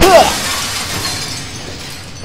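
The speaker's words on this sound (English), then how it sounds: "let's break the glass" Glass shattering in the survival horror game Soma: one loud, close crash with a bright burst of breaking glass at the start, then a decaying scatter of shards and hiss that fades over two seconds.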